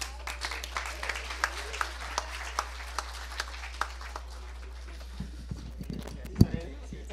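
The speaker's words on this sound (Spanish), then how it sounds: "un aplauso a todos" A group claps briefly at a campus safety and hygiene talk, a thin, scattered patter of hands over a steady low hum, with a few louder thumps near the end.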